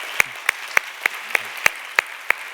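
Around eight sharp, evenly spaced claps land in a steady rhythm, fairly close and clear, as a church youth worship gathering applauds to give glory to God.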